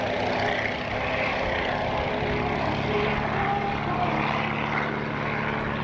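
A formation of WWI fighter aircraft passes at the 2024 National Warplane Museum Airshow, with a steady, loud propeller engine drone holding throughout and no talking.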